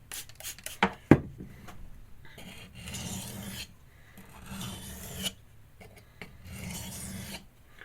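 Light alternating strokes sharpen a recurve steel blade, a dry rasping scrape repeating in bursts with brief pauses between passes, close and moderately quiet, no talking.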